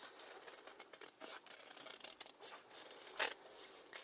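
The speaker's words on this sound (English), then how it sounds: "Just fold it back up so I can cut this last set of circles." Scissors cutting folded fabric circles for a garland, a quiet close series of soft snipping and rubbing strokes in quick succession.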